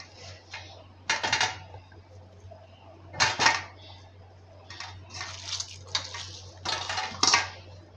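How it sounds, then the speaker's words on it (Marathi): Boiled potatoes being mashed in a metal pot or bowl for chicken cutlets, with irregular clanks, scrapes and knocks of utensil against the vessel in short bursts over a steady low hum. "बटाटे मॅश करून घेऊया आपण।"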